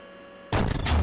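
A tank cannon firing in the Steel Beasts Pro simulator, a single sudden loud boom after near silence, followed by a heavy rumbling blast tail, no talking.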